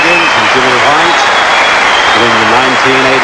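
A snooker crowd applauds a doubles victory at the 1984 Hofmeister World Doubles, Alex Higgins and Jimmy White beating Cliff Thorburn and Willie Thorne; dense, sustained clapping fills the hall beneath a commentator's voice.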